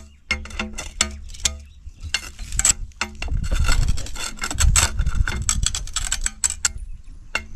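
Cutting pliers crack and pick away the glass of a fused tube light, making sharp, irregular clicks and snaps, then a denser stretch of gritty crunching and scraping, all close by.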